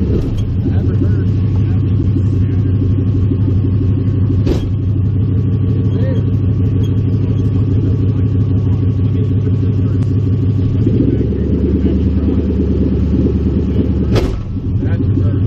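Toyota engine idling loudly and steadily while shifted between reverse and drive with a destroyed differential at a dragstrip, a close low drone with a drop in tone partway through and a couple of sharp knocks, voices talking nearby.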